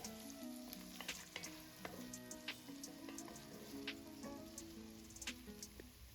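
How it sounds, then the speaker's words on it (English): Garlic and onion frying in a saucepan with a faint, steady crackling sizzle and scattered small pops, quiet and continuous throughout. "Then add the onion and fry for another 2 to 3 minutes until translucent."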